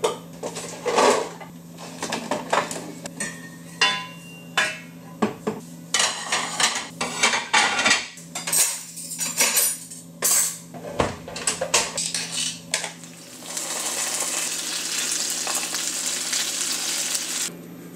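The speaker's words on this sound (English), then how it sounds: "I'm gonna put dishes away." Dishes being put away in a home kitchen, with a series of close clinks, clatters and knocks of plates and cutlery at irregular intervals, ending in a sizzling or running-water hiss.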